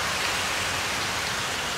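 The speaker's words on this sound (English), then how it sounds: "It's raining." Steady rain falls in a continuous, even hiss that fills the whole moment with no voices or other sounds.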